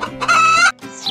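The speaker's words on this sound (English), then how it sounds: "Hen, H-E-N, Hen." A hen gives a loud, close cackling call, one drawn-out squawk followed by a shorter cluck.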